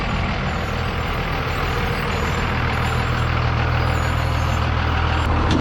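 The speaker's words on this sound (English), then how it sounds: "So Scott is bringing his truck around" Pickup truck engine rumbling steadily nearby as it pulls around to give a jump start, a continuous low drone with a broad wash of road and mechanical noise, no talking.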